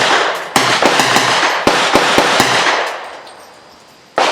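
A Palmetto State Armory Dagger 9mm pistol firing at an outdoor range, a rapid string of sharp, loud reports in uneven succession, then a pause with fading echo before one more shot.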